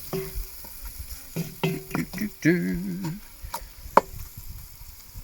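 Spaghetti bolognese is stirred in a hot camp oven: scraping and clanking of a utensil against the cast-iron pot over a soft simmering sizzle, with a sharp metallic knock near the end.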